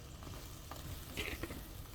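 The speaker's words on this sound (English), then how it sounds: "So right here I have 2 cups of boiling water. I'm adding my onion, my tomatoes," Onion, tomatoes and chili peppers drop into two cups of boiling water in a pot for birria. A short, steady hiss of bubbling and stirring runs throughout, with a few brief splashes and no talking.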